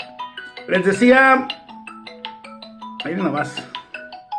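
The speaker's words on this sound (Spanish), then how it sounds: "Ay, qué timbre, esto se calla" A telephone ringtone chimes repeatedly in a room during a Spanish-language talk, a series of short bright electronic tones beneath and between a man's speech.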